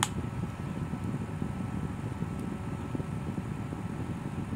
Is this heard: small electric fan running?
yes